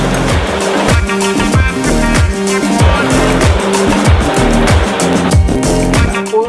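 A cap embroidery machine stitches promotional caps at a reduced speed, giving a loud, fast, steady mechanical rhythm of repeating needle strokes throughout.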